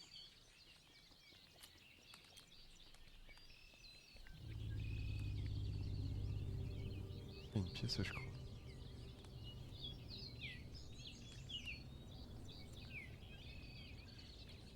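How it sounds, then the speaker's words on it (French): Faint chirps and tweets of small birds in the video game Grunn, scattered over a low ambient rumble, with a brief spoken remark partway through. "Normalement, tu entends les petits oiseaux."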